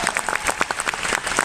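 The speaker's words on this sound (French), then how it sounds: "bravo les accessoiristes, on les applaudit aussi." An audience at a cosplay contest final at Paris Games Week 2025 applauds the prop makers. A dense burst of clapping from many hands stays fairly close and loud for its short duration.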